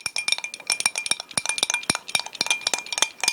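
A lime juice drink is shaken or stirred hard in a glass, giving a fast, continuous run of bright clinks and rattles close by, with no talking.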